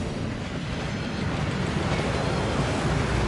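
Waterfall in the Gringotts vaults in a Harry Potter video game, a steady heavy rushing roar of falling water, close and loud, unbroken throughout with no voices.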